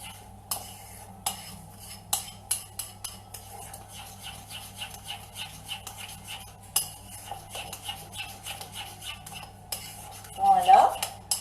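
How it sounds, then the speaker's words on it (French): Tomato sauce being mixed with salt and pepper in a bowl: repeated light clinks and scrapes of a spoon against the dish at a steady pace, fairly close, with a louder scraping burst near the end. "Je mélange bien."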